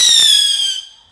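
A bottle rocket firework launches at a Fourth of July gathering: a sharp ignition pop and crackle, then a loud rising whistle that fades quickly as the rocket climbs away.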